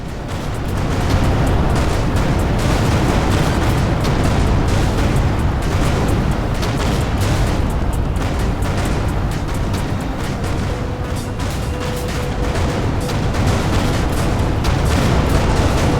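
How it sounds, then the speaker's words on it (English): In the Everspace 2 space-combat game, a dense, continuous roar of explosions and heavy blasts keeps up at a loud level for the whole stretch, full of crackling bursts and rumble. "Vacate this area at once. Explosion imminent."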